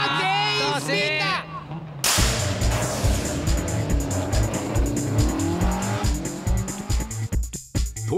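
AE86 drift cars with carburetor-spec engines spin out together at a 1997 drift team competition, engines snarling and tires scrubbing loudly under an excited commentator with sharp popping bangs.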